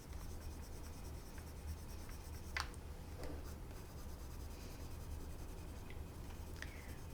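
Colored pencil shading on paper during a tiger shark drawing, a faint, steady scratchy rubbing that runs continuously with a few brief sharper strokes, close and quiet.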